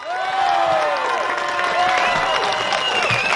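A Melbourne event audience breaks into sustained applause and cheering, a dense continuous wash of clapping mixed with crowd voices and whoops.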